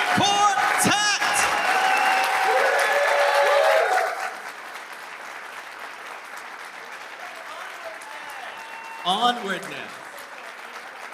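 An audience at a string quartet concert breaks into loud applause and cheering for about four seconds, then the clapping fades to a quieter background while a person speaks.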